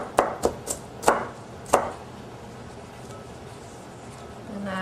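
A knife chops a red onion on a cutting board: five sharp, close knocks in an uneven rhythm over the first two seconds, followed by quiet room tone.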